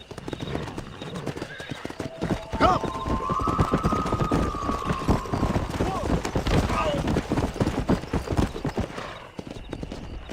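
Horse hooves clip-clop steadily at a riding pace in a Red Dead Redemption game scene, loud and close throughout, joined by a whinny and game sounds layered over it.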